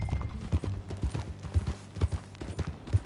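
Horse hooves clip-clop in a steady rhythm of heavy, close steps while riding in a Western video game, with occasional soft background noise and no clear talk.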